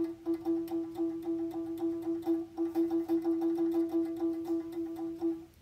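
A ukulele built from a hospital bedpan, plucked rapidly on one fretted note to imitate the whirring of a Siemens blood sugar machine, making a steady, fluttering tone with quick rhythmic pulses and no talking.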